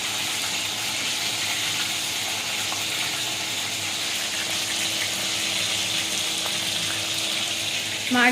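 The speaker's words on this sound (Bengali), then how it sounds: "লোটে মাছের ফ্রাইটা হচ্ছে।" Lote (Bombay duck) fish frying in a pan on a gas stove in a home kitchen, a steady, dense sizzle running throughout at moderate level, with a brief clatter near the end.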